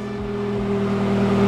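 BMW F30 with an M Performance exhaust firing up, a steady deep engine drone with strong low harmonics and a couple of brief dips in the first half-second, close and loud throughout.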